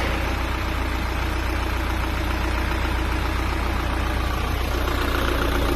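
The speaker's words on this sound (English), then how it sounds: "So we will start up the engine for at least 5 minutes." A car engine idles steadily during an overheating check, a constant low mechanical drone with an even rumble, close by and unchanging, with no talking over it.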